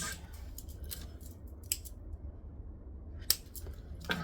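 Scissors snip loose thread tails after a seam is sewn, a few sharp isolated cuts spaced apart over a quiet low background hum, close by and with no talk.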